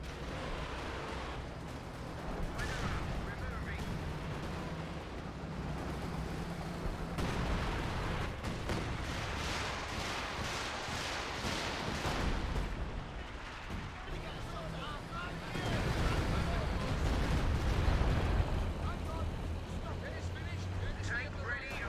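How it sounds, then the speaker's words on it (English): Howitzer artillery bombardment in the strategy game Company of Heroes 2: rumbling, booming blasts and low explosions swell in waves under continuous talking and battle noise. "Base howitzers ready to plaster a target."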